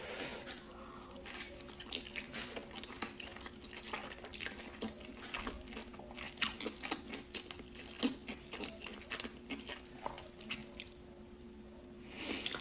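Someone chews and eats gyoza with soft, wet bites and repeated quiet chewing, close and faint over a low steady hum.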